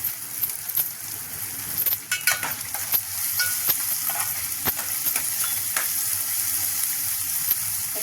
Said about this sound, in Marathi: हे आपण या मिरच्या आपण त्याला टाकूया चांगलं फ्राय करून घेऊया